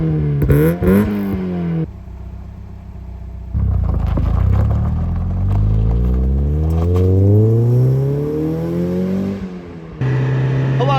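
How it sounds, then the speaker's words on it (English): 1990 Mazda Miata engine revving, several rising and falling sweeps including one long climb through the revs, loud and close with no voices. "this is a 1990 Mazda Miata"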